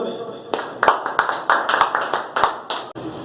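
An audience claps to welcome a chairman, a small crowd's claps landing in a loose, irregular patter at moderate loudness over a faint background murmur and lasting about three seconds.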